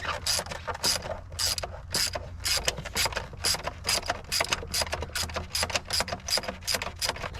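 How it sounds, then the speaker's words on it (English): A ratchet wrench turning on the throttle body of a 2003 Hemi Ram 1500 with 426,000 miles, giving rapid rhythmic clicking bursts close up, repeated back and forth with no voices. "Take that ratchet off, spin it by hand."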